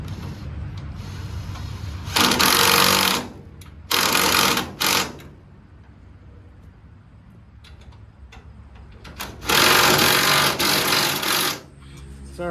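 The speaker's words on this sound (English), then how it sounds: "We'll drill with our pilot bit and then step up until we get to the right size." A drill with a pilot bit bores through angle iron in loud, sustained bursts separated by quieter pauses, three main runs of grinding, whirring noise with scattered clicks between.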